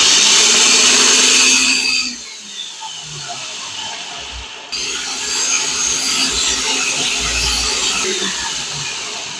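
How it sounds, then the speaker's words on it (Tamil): A kitchen mixer grinder runs loud and steady for about two seconds, whirring through orange bun jam ingredients, then cuts off, leaving a lower, rougher grinding hum that carries on to the end. "அரைச்சி எடுத்துடலாங்கப்பா இப்போ பார்த்தீங்கன்னா இது எல்லாமே நல்லா அரைச்சிட்டு வந்துடும்"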